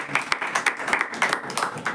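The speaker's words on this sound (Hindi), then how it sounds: "आइए हम लोग ताली मारेंगे।" Church congregation clapping hands together in rhythm during a Hindi-language service, a steady run of close, sharp claps at an even beat, with no voices over it.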